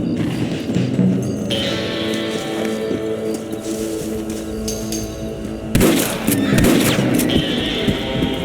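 In the video game Red Dead Redemption, rifle shots at rabbits crack out in loud repeated bursts over game ambience, with hoofbeats and a sharp cluster of shots near the end.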